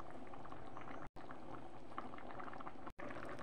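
Mutton pulao liquid boiling in a pot, a steady bubbling and gurgling simmer heard up close and fairly quiet, continuous apart from two brief dropouts.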